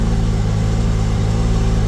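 A car engine in its Sport++ turbo drive mode runs at raised RPM with a steady, loud, droning hum and no change in pitch across the moment, while a low mechanical tone sits underneath.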